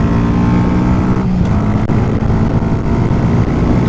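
A Masai Greystone 125 motorcycle engine drones loud and steady while riding and speeding up, a dense continuous roar with wind rush and no pauses.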